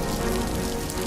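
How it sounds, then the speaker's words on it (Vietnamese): Steady early-summer rain in an animated scene, a dense, even patter falling onto a surface without pause, with no voices. "Mưa đầu hè, nước ngọt lắm đó."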